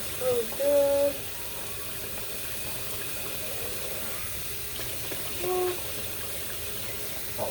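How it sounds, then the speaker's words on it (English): Tap water running into a sink while a child's sippy cup is washed out, a steady soft hiss of flowing water with a few brief tonal clinks and a short spoken sound over it. "Just washing out his sippy really good."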